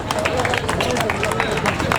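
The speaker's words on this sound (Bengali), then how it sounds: "আর জোরে হাততালি দিন ওনার জন্য" A crowd claps and cheers for an autograph collector at an evening film-world gathering in West Bengal, with dense, steady applause and crowd chatter mixed throughout.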